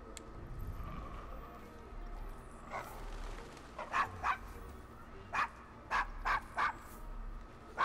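A dog barks in an Assassin's Creed-style video game set in the Devil's Acre, giving a series of short, mid-distance barks and yips in irregular bursts over low background ambience.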